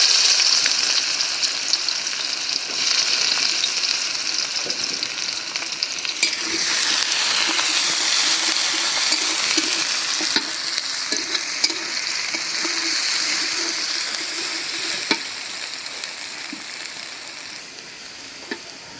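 Onion fries in a pan with a bright, constant sizzle while a spoon stirs and scrapes through it in scattered knocks, close and moderately loud for a long stretch with no voices.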